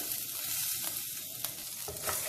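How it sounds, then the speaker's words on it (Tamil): Dried red chillies and curry leaves fry in hot oil, giving a steady, close, broadband sizzle with no voices. "இதை நல்லா நம்ம எண்ணெயில் வறுத்துக்கலாம்."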